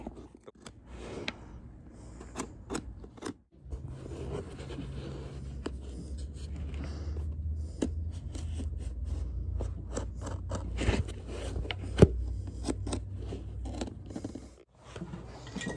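Blade slicing through the threads that hold a plastic welt to an old boot's leather upper, a long run of scratchy cutting and crunching with irregular snips and pauses, close and fairly quiet.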